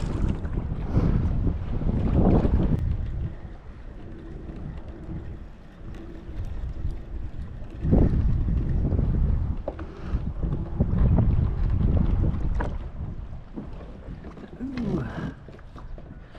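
Gusty wind buffets the microphone in heavy bursts, rising and falling over water while fishing, with people talking at times.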